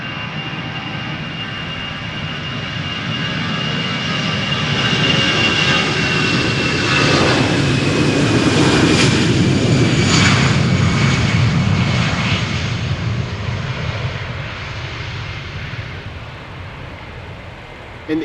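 An easyJet airliner in holiday special livery takes off at Amsterdam Schiphol bound for Luton, its jet roar building loud and close, peaking midway with a high whine, then easing off.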